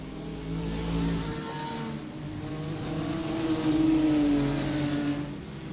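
A Ferrari 296 GT3 and other GT race cars in the iRacing simulation at Spa-Francorchamps drone and rev in sustained, rising and falling engine tones, fairly loud and continuous, with no voices.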